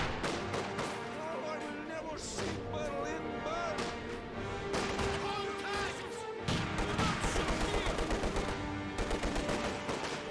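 Dense gunfire from Company of Heroes 2 fills the whole stretch: rapid machine-gun bursts and single shots layered over battle noise and explosions, loud and continuous, with commentary talk running underneath.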